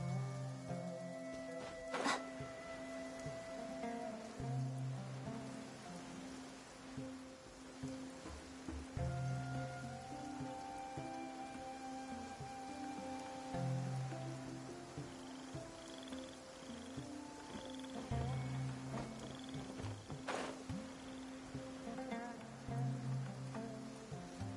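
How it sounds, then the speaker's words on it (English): Steady rain in the video game Genshin Impact patters continuously across the whole stretch, with a low rhythmic hum and occasional soft chimes rising over it; no talking. "If this rain keeps up,"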